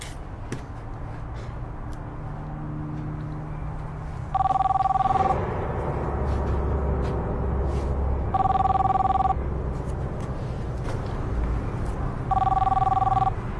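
A telephone rings in bursts of shrill bell tones, several repeated rings at steady intervals over a busy background of low murmur and room noise.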